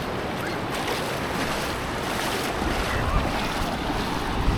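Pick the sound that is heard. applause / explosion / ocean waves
ocean waves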